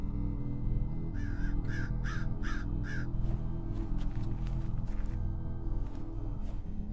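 A crow in a video game caws five times in an even rhythm, then a flurry of sharper clicks and calls follows over a steady low hum.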